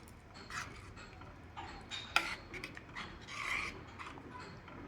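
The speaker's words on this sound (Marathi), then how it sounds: "हे चमच्याने असं सतत" A spoon stirs carrot kheer with ground rice in a pot, making faint, irregular scraping and rubbing strokes against the pot with occasional light clinks, quiet and close.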